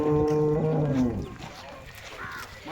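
A big Jersey cross Holstein dairy cow on a farm gives one drawn-out moo up close, loud and tonal at first, then fading into quieter farmyard background.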